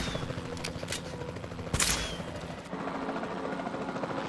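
Tranquilizer gun shots in Jurassic World Evolution 2: a few sharp, close cracks in quick succession over steady game ambience, then a brief lull.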